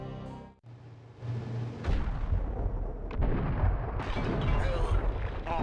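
Booming gunfire in the Max Payne video game, a burst of heavy low blasts rumbling on under a steady wash of action noise, with a brief voice at the start.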